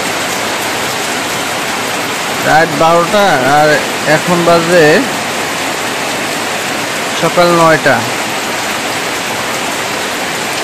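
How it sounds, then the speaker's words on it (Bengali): A heavy downpour roars as a dense, constant hiss of rain pouring without letup, while someone speaks over it in a few short bursts. "রাত 12টার পর থেকে এই মুষলধারে বৃষ্টি শুরু হয়েছে।"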